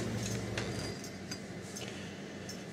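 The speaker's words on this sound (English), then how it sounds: "now I'm going to mix up my brine and start layering ingredients in" Brine for fermented dill pickles being mixed, a few faint light clinks of a utensil against a container over a steady background hiss.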